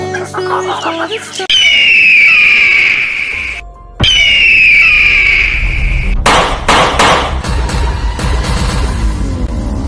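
Chickens around a rural Filipino home, loud and close, with a strong drawn-out rooster-like call, then a busy run of clucking and scratchy bird calls mixed with rattling clatter.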